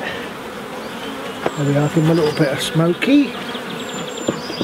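Honey bees buzz in a steady, close drone around an opened hive during queen rearing, while someone speaks over the hum.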